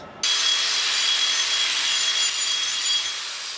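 Marble football edges being smoothed with a hand tool, a loud, continuous rasping scrape that begins abruptly after a brief quiet moment and holds steady up close, with no voices.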